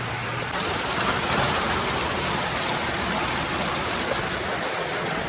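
Steady rain pours down outdoors in a dense, even hiss of water that holds at the same level throughout, with no voices.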